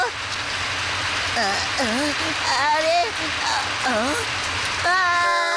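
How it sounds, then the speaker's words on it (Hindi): Cartoon rain sound effect: a steady, even hiss of falling rain runs throughout while animated characters talk over it. "हाँ, बारिश और इस वक्त भागो।"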